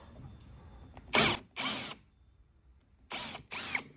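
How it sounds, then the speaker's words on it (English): A drill bores a larger hole into a wooden dresser, heard in four short bursts of whirring and grinding, two close together early and two later, each about half a second, with quiet pauses between. "using a larger drill bit, I drilled a larger hole so the screw could go all the way through"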